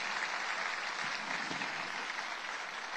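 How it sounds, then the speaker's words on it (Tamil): A crowd at a felicitation ceremony for chess world champion Gukesh applauds in a full, sustained wash of clapping that stays even throughout. "நம்மளுடைய கைத்தட்டல் மூலமாக அவர்களுக்கு நன்றியை சொல்வோம்"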